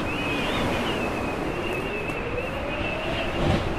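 Steady wind blowing through the Total Chaos game world, a loud continuous roar with a thin whistling tone riding on top, swelling slightly near the end, no speech.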